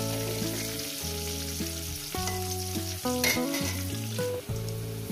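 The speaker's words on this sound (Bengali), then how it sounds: "সুন্দর করে লাল লাল করে ভেজে নেব" Potatoes frying in hot oil for a chicken curry make a steady, faint hissing sizzle that runs beneath louder background music with stepped melodic tones throughout.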